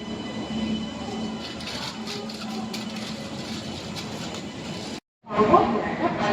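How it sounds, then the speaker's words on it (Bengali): Continuous rumble and rhythmic clatter of the Jan Shatabdi Express passenger train running on rails out of Howrah, with a brief dropout near the end before the noise returns louder. "আমাদের জনশতাব্দী এক্সপ্রেস হাওড়া থেকে ট্রেন ছেড়ে দিয়েছে।"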